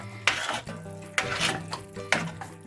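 Wheat porridge cooked in chicken broth is stirred in a pot, with three distinct scraping strokes of a spoon against the pot at an even pace, each followed by thick wet churning, up close.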